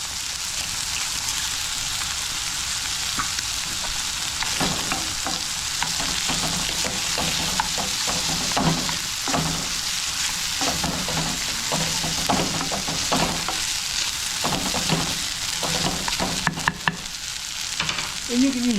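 Rice and a cracked egg stir-fry in a hot pan. A steady loud sizzle carries through, broken by repeated scraping and tossing strokes of a utensil, with a few sharp clinks near the end.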